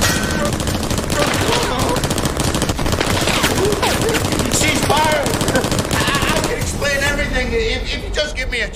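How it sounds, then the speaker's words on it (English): Rapid automatic gunfire shoots at a person in a dramatic scene. The shots form a dense, loud, continuous fusillade lasting several seconds, with shouting mixed in and a brief tail of noise at the end. "So now I'm going to shoot you down instead."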